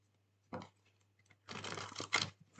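Tarot cards being shuffled by hand, heard as a short riffle followed by a longer, denser run of crisp papery flutters and snaps, fairly close and moderately quiet, with no talking.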